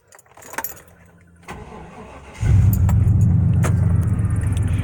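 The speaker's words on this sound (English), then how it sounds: "let me start the truck" An old 1995 Chevrolet Silverado Z71 pickup: keys jangle briefly, then the engine cranks and catches, settling into a loud, steady, rumbling idle.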